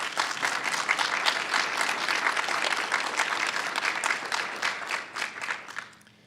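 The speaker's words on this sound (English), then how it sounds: "Please give your faculty a round of applause" Graduation audience at a nursing college convocation applauds its faculty, a dense, loud sustained clapping that holds steady for several seconds before thinning out and fading near the end.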